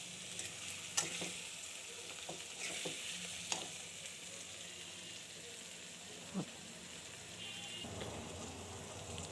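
Hilsa fish with gourd leaves frying in a pan as it is stirred, a faint steady sizzle broken by occasional soft clicks and scrapes of a utensil.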